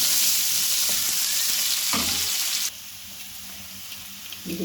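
Chopped onion frying with cumin in a pan for a bhindi dish: a loud, dense hiss of sizzling oil that drops to a quieter, steady fry partway through, with light stirring scrapes.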